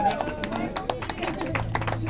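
An audience applauds at a small club concert at Cortina Bob in Berlin, with a dense, steady patter of clapping lasting the whole moment while a voice speaks over it.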